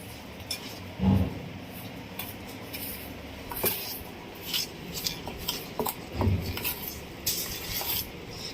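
Powdered sugar is stirred into mango shrikhand in a bowl, giving soft, continuous scraping and rubbing with occasional louder knocks of the spoon against the container, close and fairly quiet.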